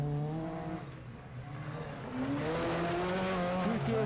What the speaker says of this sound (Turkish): Ford ekibinin ilk otomobili bize doğru geliyor. Grup A, Ford Focus, Maximum Atak'ta.